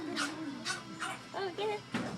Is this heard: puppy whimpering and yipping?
yes